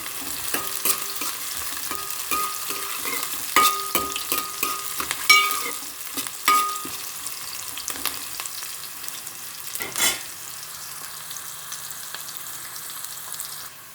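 Beans curry stirred in a pan over a medium flame, with a steady soft sizzle of frying under repeated scraping strokes of a spoon, a few louder clacks midway, and no talking.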